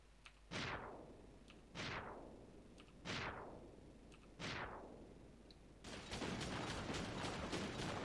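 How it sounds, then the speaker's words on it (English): Four rockets launch one after another from a Yak-3 fighter in the IL-2 flight game, each a loud whooshing blast that fades away, then a rapid burst of gunfire begins at the end. "And I can still fire rockets."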